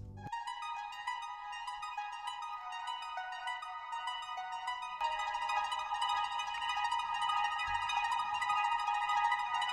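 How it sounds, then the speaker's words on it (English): Bright synth arpeggio from a drift phonk beat, rapid sixteenth notes that shift into faster thirty-second notes partway through, steady and sustained with a low bass swell joining near the end; no voices. "Also have an arpeggio going on in the background."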